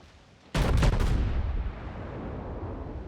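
Heavy battleship main guns boom in World of Warships, firing on the USS New York: a sudden loud salvo of several overlapping blasts, then a long rumbling decay under a steady background hum.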